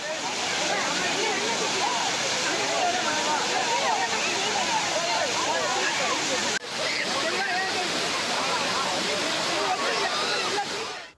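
Kumbakkarai waterfall swollen after heavy rain, roaring as a dense, steady rush of falling water close by, continuous throughout with a brief dip midway.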